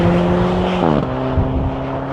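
A 2013 Alfa Romeo 4C mid-engine sports car with a four-cylinder engine drones steadily from inside, the engine note dipping briefly as it shifts gear, then settling into a lower, even hum.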